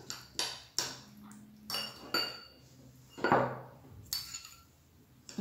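Utensil clinking and scraping against a dish while stirring a spice and olive oil mixture, several distinct close knocks spaced about a second apart, fairly quiet, with no talking.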